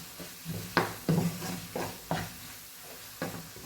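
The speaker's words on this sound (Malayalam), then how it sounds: "ഇളക്കി കൊടുക്കാം." Chilli powder being stirred into oil in a hot pan while making a tomato buttermilk curry, with a handful of scraping, sizzling strokes spaced out at an uneven rhythm, heard close and alone.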